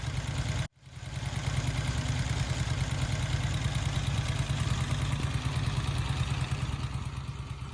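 A Douglas Dragonfly, a 1950s British 350 motorcycle, idles steadily close by with an even, clattery beat after a brief cut-out near the start.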